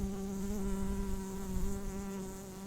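Steady droning buzz of many bees around a hive, a dense continuous hum close by with no talking.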